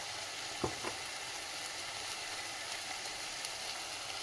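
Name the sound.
sautéing fenugreek leaves with salt in a pan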